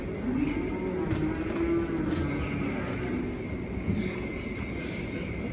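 A jet-black Sahiwal cow of about 600 kilograms gives a long low moo against steady outdoor background noise on a cattle farm, with no talking.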